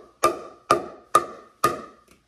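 A pickleball struck against a composite paddle, four crisp, sharp pops spaced about half a second apart, each with a brief ringing ping, close and alone.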